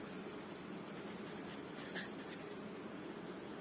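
A pen scratches steadily across paper while accounting journal entries are written, soft continuous strokes close by with a few brief louder ticks.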